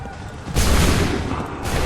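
A musket volley from a line of soldiers in Assassin's Creed 3 erupts as a loud, broad roar that swells, briefly eases, then surges again close by.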